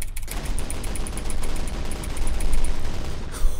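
In the People Playground video game, guns fire a dense, continuous barrage of rapid shots, loud and sustained throughout with no pauses and no talking.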